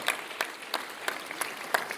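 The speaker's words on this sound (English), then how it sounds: "another big round of applause for these beautiful young people making the Shakes come alive tonight" Audience at the 49th Shakes boys' awards ceremony applauding young volunteers, a thin, steady patter of clapping broken by several sharper, louder claps spaced across the stretch.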